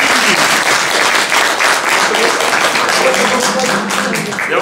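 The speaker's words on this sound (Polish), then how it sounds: "gorące brawa jeszcze raz" Warm, dense audience applause at a literary competition award ceremony, loud and continuous with a quick, even clapping texture throughout.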